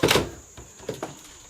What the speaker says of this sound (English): See how the door's got to go?